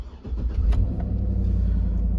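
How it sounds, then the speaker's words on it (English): A car engine cranks and catches near the start, then settles into a steady low idle rumble that runs on alone and close by. "I'm gonna start the car"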